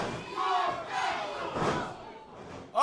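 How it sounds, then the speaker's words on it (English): A wrestling crowd in Quincy, Massachusetts roars and cheers in repeated swelling bursts, loud and full, with shouting voices mixed through it. "Listen to the crowd here in Quincy, Massachusetts explode."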